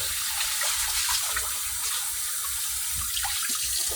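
Tap water pouring steadily into a sink while white rice is washed, a continuous close splashing rush with no speech.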